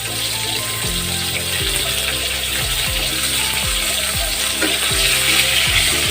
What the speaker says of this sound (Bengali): পটলগুলো আমি এখানে একটু ডিপ ফ্রাই করে নিই হালকা করে